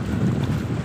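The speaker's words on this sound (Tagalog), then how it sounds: "Lakas ng hangin, mga kapatid. Ayan, oh. Lakas ng alon." Strong wind buffeting close by over Laguna Lake with a roar of churning waves beneath, steady and loud over a brief moment.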